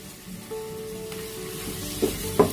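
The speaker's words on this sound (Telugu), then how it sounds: "ఈ కారం నూనెలో వేగడం వల్ల కూరకు మంచి రంగు వస్తుందండి" Chili powder and turmeric fry in oil for a korameenu fish curry with a soft, low sizzle. A spoon makes two sharp clinks or scrapes near the end, and there is no talk.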